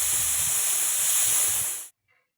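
A pressure cooker cooking jackfruit with turmeric and water lets out a loud, steady steam whistle that hisses for about two seconds and then cuts off abruptly, leaving near silence.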